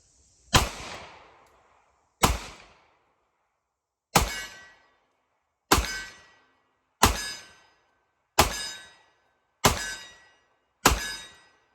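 Eight sharp 10mm pistol shots from a Colt Delta Elite, each followed by the ringing clang of a steel target about 15 yards away, fired at a steady pace with short gaps, loud and close.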